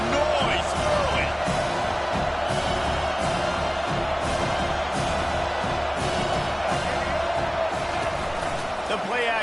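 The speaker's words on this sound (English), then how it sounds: "This crowd bringing the energy and noise early." A football stadium crowd roars steadily throughout, with rhythmic thumps and cheers rising above the din. A commentator talks over the noise.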